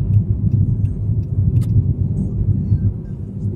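A car accelerates during a driving lesson in Khabarovsk, a steady low engine rumble rising under the cabin, loud and continuous with no talking in this moment.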